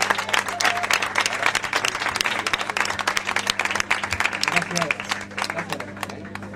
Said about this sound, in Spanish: Un aplauso para Masaki.